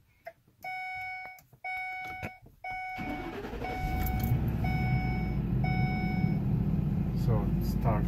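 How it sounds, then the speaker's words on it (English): A 2011 Four Winds Majestic 19G RV gives a series of dashboard warning chimes, then the engine cranks and catches, settling into a steady low idle rumble that continues to the end, with a person talking briefly near the start. "Let me show you how the RV starts."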